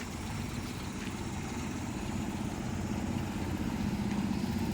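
A car pulls away at a crawl as the clutch is slowly let out, its low engine hum steady and continuous throughout, close by with no talking.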